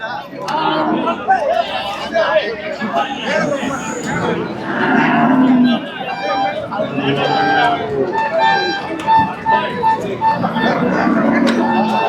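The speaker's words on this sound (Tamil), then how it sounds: "மாடெல்லாம் உள்ளே வந்துட்டு இருக்குதுங்க." Cattle at a Saturday livestock market in Tamil Nadu's Tiruppur district, including Kangeyam breed, low moos rising repeatedly over a busy crowd babble, with chatter and movement filling the scene throughout.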